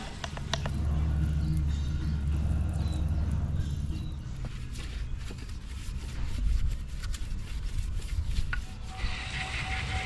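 Steady broadband scrubbing and washing of a very dirty engine bay on a Mazda RX-8 with an LS1 V8 swap, a continuous hiss of rubbing and water running for about ten seconds, close and fairly loud, with no speech.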